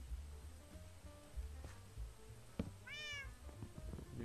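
A cat in the Minecraft video game gives a short meow near the end, a rising and falling tonal call heard clearly over quiet game background sounds and soft clicks.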